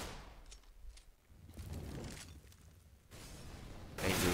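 Close-quarter gunfire from an AK in a Counter-Strike match on de_inferno, with irregular bursts of shots and impacts followed by a louder, sharper burst at the end.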